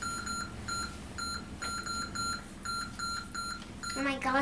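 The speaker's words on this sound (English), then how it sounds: "Oh my gosh, that beeping is hurting my ears." Repeated electronic beeping from a retro Atari 2600 horror game, sharp tonal bleeps in rapid, evenly spaced bursts with a rising warble at the end, loud over low background noise.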